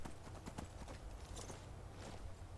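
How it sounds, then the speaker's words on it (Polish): Horse hooves in Skyrim clip-clopping in a quick, irregular series of soft thuds, very quiet and steady throughout. "tu jest koń"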